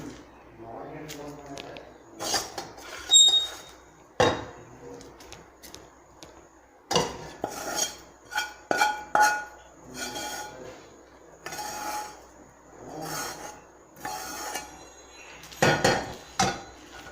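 Coconut burfi mixture is scraped from a pan onto a ghee-greased plate, giving a metallic scrape, clinks and sharp knocks of a spoon against the pan in uneven bursts. A voice talks over parts of it.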